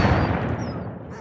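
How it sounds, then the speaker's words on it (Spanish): A single gunshot effect from a dramatized crime story lands loud and close, its burst of noise tailing off over about a second. "ofreció otro disparo a John."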